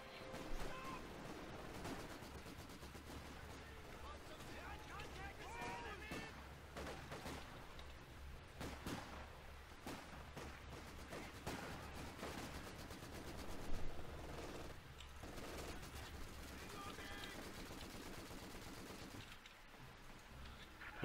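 Machine gun fire in the WWII strategy game Company of Heroes 2, bursts of rapid shots rattling under a busy battlefield din with a low rumble, mid-distance and fairly steady, with a sharper report near the middle.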